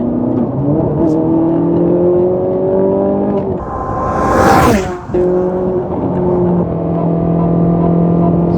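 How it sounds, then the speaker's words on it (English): A Ferrari 458 Italia engine revs up loudly, the pitch climbing in steady sweeps, a sharp roaring burst in the middle, then settling back into a rising drone. "The sound of the engine is the music to your ears."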